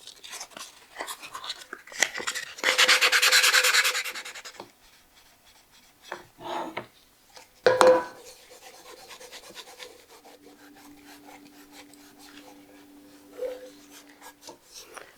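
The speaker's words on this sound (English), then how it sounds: "sandpaper, and I'm just going to give it a light sand" Sandpaper rubbed by hand over a painted dollar store tray, giving a few separate bursts of scratchy rasping, the loudest a sustained stretch early on, with quieter strokes and pauses in between.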